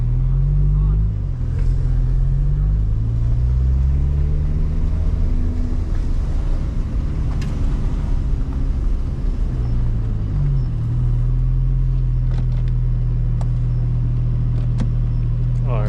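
A Porsche 911 Turbo S engine rumbles loud and steady from inside the car as it idles and creeps, a deep continuous drone with slight shifts in pitch and no one speaking.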